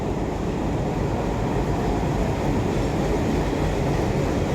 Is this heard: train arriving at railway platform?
yes